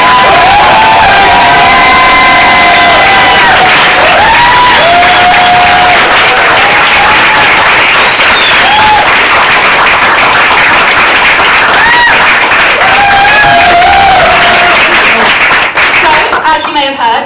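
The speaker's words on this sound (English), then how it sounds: "So please start with thunderous applause" An audience at a Bright Club comedy night in Guildford erupts in sustained, loud applause and cheering, with dense clapping and whoops filling the room from start to finish.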